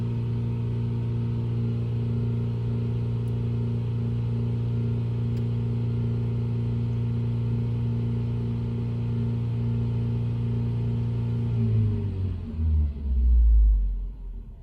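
A Ford car engine held at about 3,500 rpm with the accelerator floored, a steady loud droning hum that drops away near the end into a low rumbling settle toward idle.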